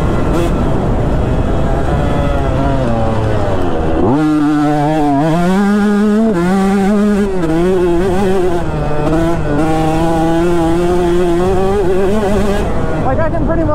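A KTM 150 two-stroke motocross bike screams at full throttle, its loud, close engine note climbing sharply and then holding high and wavering through a corner.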